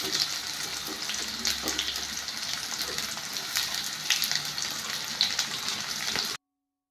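Slit green chillies with thinly sliced shallots and onion frying in a pan for Kerala-style egg curry, giving a steady, even hiss that holds for several seconds and then cuts off.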